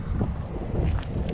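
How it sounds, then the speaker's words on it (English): Heavy wind buffets the microphone outside a new building, a steady low rumbling roar that holds loud and unbroken for the whole moment with no other sounds. "The wind's a little heavy,"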